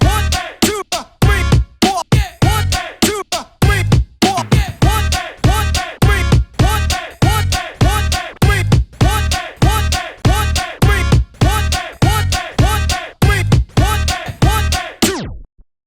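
A basic beat-juggling trick mix on two turntables: punchy kick and snare hits repeated in a tight, steady, rhythmic pattern, with sharp choppy cuts between beats, loud and close for about sixteen seconds.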